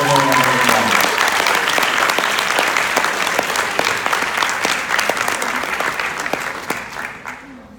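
Audience applause at a stage hypnosis show, a dense, loud wash of clapping that begins under a brief voice and gradually tapers over about eight seconds.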